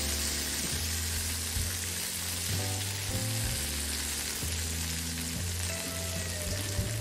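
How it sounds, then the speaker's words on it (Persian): Okra frying with salt in a pan for an okra stew, a steady broadband sizzle heard close up, with stirring scrapes and soft clinks of the spoon against the pan throughout, no voices. "همینطور هم میزنیم و تکون میدیم تا همه طرفای بامیه‌مون یک دست رنگشون عوض بشه"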